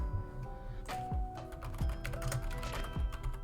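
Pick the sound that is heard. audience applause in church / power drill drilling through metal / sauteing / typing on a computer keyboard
typing on a computer keyboard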